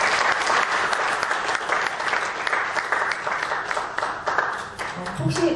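Sustained applause from a lecture audience for a National Assembly member at an economic policy talk: loud, dense clapping with crisp individual claps, tapering slightly near the end.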